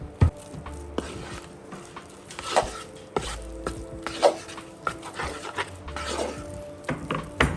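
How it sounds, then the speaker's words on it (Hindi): Barley flour being mixed in a bowl produces soft scraping and stirring strokes, with occasional light clinks of a utensil against the bowl, all quiet and close. "अब मैं इसके अंदर ऐड करूँगी थोड़ा सा जौ का आटा। इसको अच्छे से मैं मिक्स करूँगी।"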